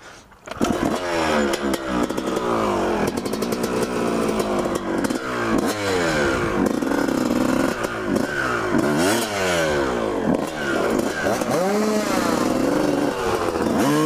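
A dirt bike engine revs hard and close, its pitch sweeping up and down through repeated throttle blips and rattling clatter, loud and continuous for the whole stretch with no voices.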